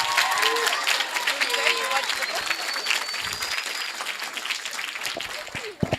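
Audience applause at a talk on the right to education, a dense, steady patter of clapping from a moderate-sized crowd that carries on for several seconds and tails off near the end.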